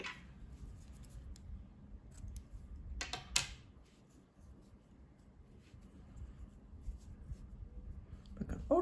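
Scissors snip through yarn in a quiet crochet setup, a couple of short crisp cuts close to the mic against a soft background hiss, then a faint rustle of handling.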